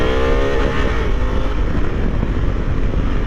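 A Honda Africa Twin 1000cc twin-cylinder motorcycle with an automatic gearbox runs loud and close, its engine note climbing in pitch before settling into a steady, rough roar with wind noise.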